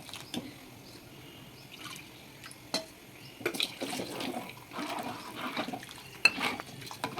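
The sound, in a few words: stirring besan flour mixture in a pot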